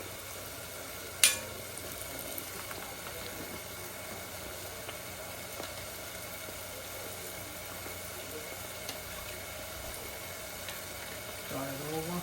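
Guyanese bake dough frying in oil, a steady soft sizzle that continues evenly throughout, with a single sharp clink early on and a few faint knocks.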